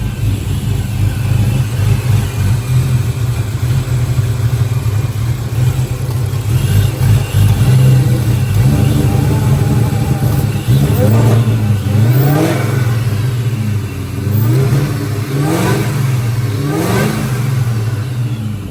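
A Terminator Mustang Cobra engine with a freshly fitted crank pulley idles with a steady low rumble, then revs up in a series of rising and falling pulls, loud and close.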